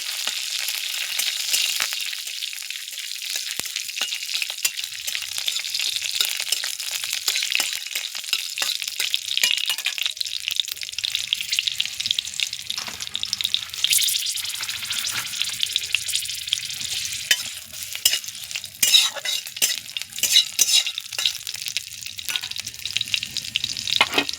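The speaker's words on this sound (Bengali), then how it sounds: "এভাবে সমস্ত কিছু দিয়ে নাড়তে থাকবে।" Cumin, two dried chillies and a green chilli sizzle and crackle steadily in hot oil in a frying pan, with scraping stirs of a spatula scattered through the continuous close frying hiss.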